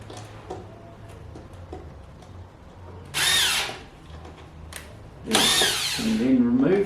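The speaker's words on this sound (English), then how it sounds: "Pre-drill, square drill going in" A power drill pre-drills holes in wood for screws, whirring loudly in two short bursts, the second longer with a rising pitch as it bites in, amid quieter workshop sounds.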